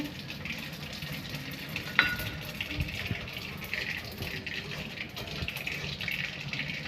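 Black mustard seeds and a bay leaf sizzle in hot oil, a constant bright frying hiss with scattered crackles and one sharper clatter near the start.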